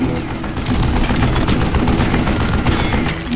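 Mounted gun fire in Call of Juarez: Gunslinger, a dense continuous roar of rapid shots and rumbling bursts that stays loud and steady throughout.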